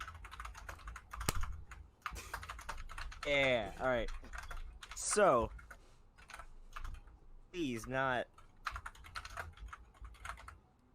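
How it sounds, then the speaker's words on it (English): Rapid clicking of someone typing on a computer keyboard during an online gaming podcast call, the key clatter running almost continuously under voices talking. "Stop typing, Owen"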